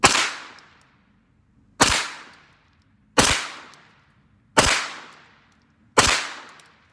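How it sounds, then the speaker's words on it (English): Five loud, evenly spaced gunshots come from a Cobalt Kinetics pistol-caliber carbine, each a sharp crack with a short decaying tail and quiet pauses between. "And here we go, 5 shots."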